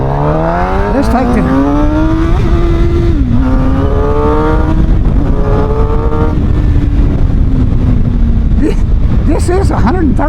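A 2027 Suzuki GSX-R750, a 130-horsepower sportbike that redlines at 14,250, runs loud and close with a steady engine drone that rises and falls in pitch, ending in a few quick revs.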